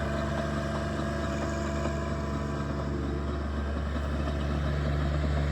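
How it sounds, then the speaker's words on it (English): A John Deere 1025R compact tractor rototilling soil in a farm food plot, its engine running steadily at a constant loud drone with a low rumble and no breaks. "look at how nice that tractor turns on a dime"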